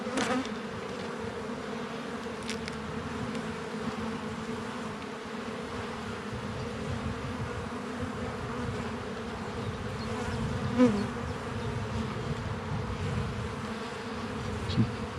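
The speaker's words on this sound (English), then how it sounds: "Some bee covered in pollen there." Honeybees buzz at an open hive during a spring inspection, a dense continuous hum close to the microphone with occasional louder passes of individual bees.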